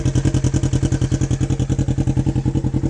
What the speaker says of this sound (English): Right now you can hear the Gibson Exhaust.